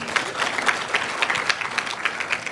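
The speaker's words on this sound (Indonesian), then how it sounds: "Beri tepuk tangan yang meriah buat Tuhan." A church congregation claps for God during an Indonesian worship service, a brisk, fairly steady round of applause heard at moderate distance with individual claps standing out.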